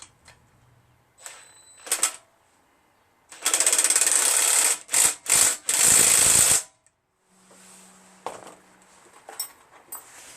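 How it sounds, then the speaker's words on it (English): Hand wrench and mechanical work on a Briggs & Stratton 17.5HP engine during a rebuild, with sharp clicks and several loud buzzing rattling bursts in quick succession, then quieter scattered clinks. "I'm going to have to use a wrench for that one."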